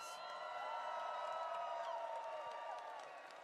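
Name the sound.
crowd applause at Star Wars Celebration in Tokyo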